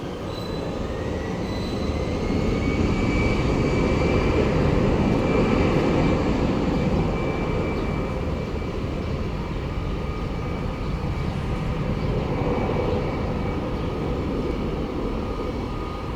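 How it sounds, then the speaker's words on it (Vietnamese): Airliner taking off at Tan Son Nhat airport in Saigon, a loud steady roar with a rising high whine sustained throughout, no voices. "Còn bây giờ máy bay cất cánh nào."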